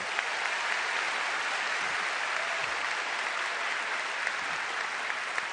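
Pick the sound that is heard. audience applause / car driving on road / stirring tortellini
audience applause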